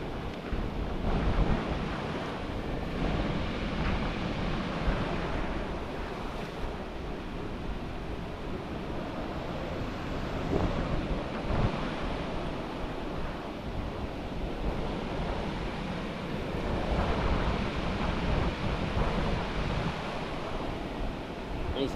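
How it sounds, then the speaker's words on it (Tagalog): Ocean waves and wind on the seashore in the morning after a typhoon, a steady washing roar of surf with gusting wind noise, moderately loud and continuous. "Tabing dagat ng umaga."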